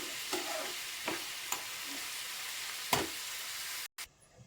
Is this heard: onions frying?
yes